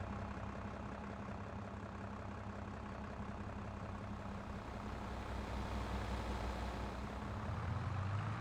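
A Massey Ferguson tractor engine drives along in Farming Simulator 22, a steady low diesel rumble that holds close and even, then rises slightly in strength near the end.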